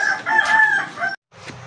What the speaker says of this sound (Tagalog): yung magandang tilaok dito sa bakuran ko